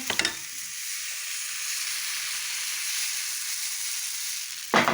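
Steady frying sizzle from pancake batter in a hot frying pan, a continuous hiss at moderate level, with brief clatters at the start and end.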